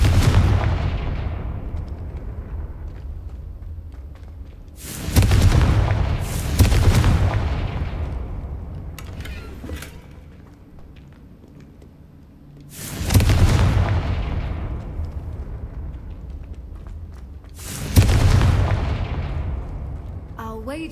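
Confringo spell blasts go off in the video game Hogwarts Legacy: several loud booming explosions, spaced a few seconds apart, each with a sharp crack that trails into a long fading rumble.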